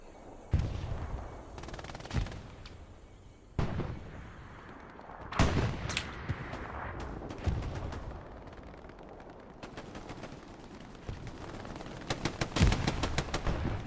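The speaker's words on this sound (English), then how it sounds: "Grenades going off." Grenade blasts and rifle fire in a video game skirmish: scattered sharp explosions and gunshots, some close and booming, others distant, with a rapid burst of automatic fire near the end, no talk.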